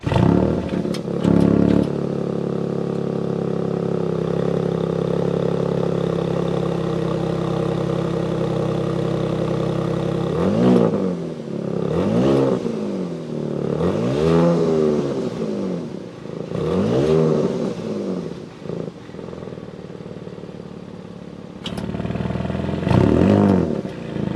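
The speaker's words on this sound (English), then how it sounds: "I wanna really hear that exhaust. We're gonna go inside, start it up so you can hear it now." A 2022 Audi S7 engine idles with a steady rumble, then revs sharply several times, the exhaust rising and falling in loud bursts before settling back.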